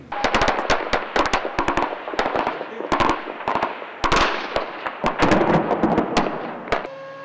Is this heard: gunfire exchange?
yes